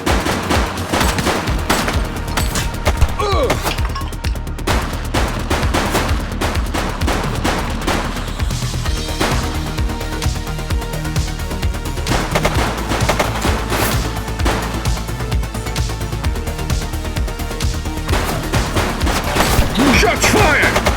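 Sustained, close-up gunfire rattles through a police shootout in The Precinct, with dense volleys and machine-gun bursts that barely let up. Booms mix in, and a voice occasionally cuts through.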